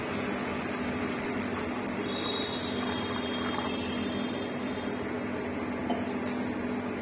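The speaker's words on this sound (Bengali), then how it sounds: "জল দিয়ে দেব।" Water is poured into a cooking pot holding yogurt while preparing chicken for bao buns, giving a steady, continuous rushing sound at moderate volume with no pauses.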